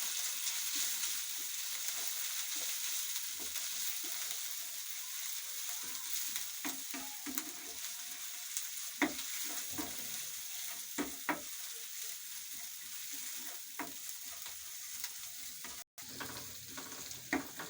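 Ginger and garlic paste fries in a pan for chicken kachori filling, a soft, even sizzle broken by intermittent clinks and scrapes of a stirring spoon.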